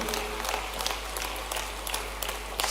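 An audience claps to welcome the chief minister at a public housing scheme event, a sustained, fairly faint patter of applause over a steady low hum.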